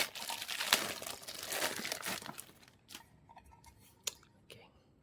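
Packaging crinkles and rustles loudly as a King car audio DSP power amplifier is unboxed, then it quiets to a few light clicks and handling taps, with faint speech in the background.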